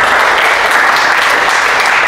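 A church congregation claps together during a Sunday sermon service, a dense, loud, continuous wash of applause from many hands with no voices standing out.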